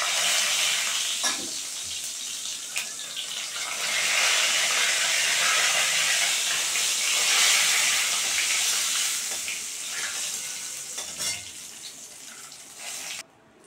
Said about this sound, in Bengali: 4টে শুকনো লঙ্কা ফোড়ন দিয়ে দিলাম।